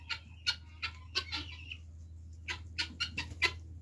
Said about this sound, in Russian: Здесь он цесарки не дают снимать. И галдеж, и галдеж.